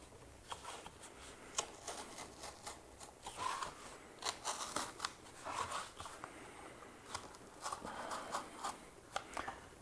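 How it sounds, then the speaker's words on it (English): A knife cutting through a Halloween lantern, a close series of scratchy, rasping cuts and crinkling strokes in uneven bursts without talk. "So let's cut a little bit."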